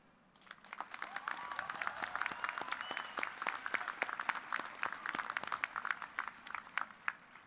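Graduation audience at an engineering and computer science commencement applauding faculty and staff, a dense sustained wash of many hands clapping that swells in and continues steadily throughout, with no talk over it.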